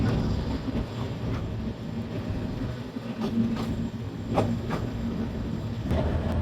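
Turna Express intercity train rolling slowly on a rainy day, a steady dense rumble with faint periodic clicks of wheels over rail joints, continuous and close throughout.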